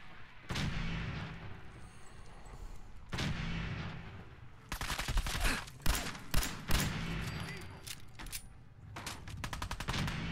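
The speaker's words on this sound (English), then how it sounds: "Somebody just shoot at me." Gunfire in the video game Fallout 4: a few isolated shots early, then a dense burst of rapid overlapping shots and booming impacts, loud and close, with scattered reports trailing off near the end.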